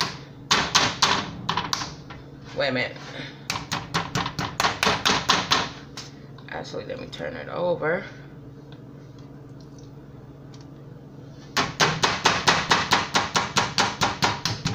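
Raw chicken is pounded flat on a kitchen counter in rapid bursts of sharp, rhythmic thuds, several quick series broken by pauses in which a person speaks briefly.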